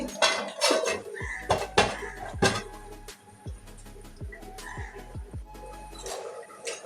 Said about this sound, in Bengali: আরো 2 মিনিটের জন্য ঢাকা দিয়ে রাখছি।